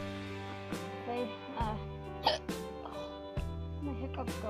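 Repeated hiccups from a tired person, several short sharp catches breaking through over a steady music bed at moderate level, fairly close.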